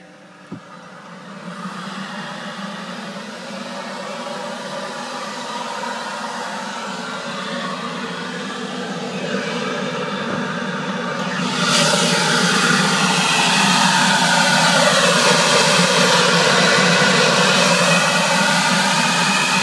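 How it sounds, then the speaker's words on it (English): A car engine idles steadily after a cold start, a smooth broadband whir with a low hum, rising to a louder, fuller roar about two-thirds through, with a loud intake noise after a CX Racing front-mount intercooler install. "Got a cold start next day after CX Racing front mount install."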